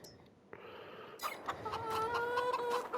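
Chickens and roosters in Farming Simulator 22 cluck and crow in a farmyard, with several overlapping calls and tonal rooster notes rising over a steady background bed, getting busier toward the end.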